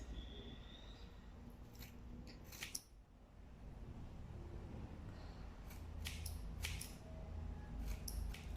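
Scissors cutting through synthetic wig hair while making a homemade wig: a series of crisp, close snips, some in quick clusters, over quiet room noise and gentle handling sounds, with no talking.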